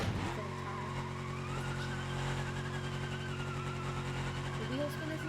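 Spinning tires and a skidding race car in the BeamNG driving simulator, a steady high tire squeal with a rising engine whine over a low rumble, heard under a person talking.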